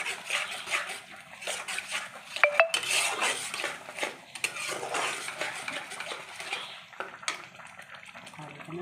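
Katla fish pieces are stirred with spices and yogurt in a pan, with a spoon clinking and scraping against the metal in uneven bursts. The sound is close but fairly soft, with no talking.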